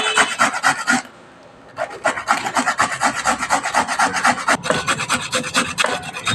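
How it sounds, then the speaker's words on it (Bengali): Beans are rubbed hard against a kitchen grater in quick, rhythmic rasping strokes, close and loud, with one brief pause early on. "বরবটিটা ঘষে নেওয়া হচ্ছে।"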